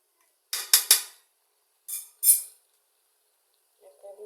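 A metal lid handled over a cooking pot while making a meat curry: a few short, bright clinks and clatters in two brief clusters, fairly close, with quiet pauses between.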